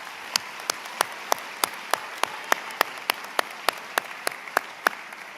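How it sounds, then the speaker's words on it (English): At a high school graduation ceremony, slow, evenly spaced claps ring out one after another in a quiet room: sharp, distinct hand claps, as if from only a few people rather than a full crowd. "Let's give them a nice round of applause."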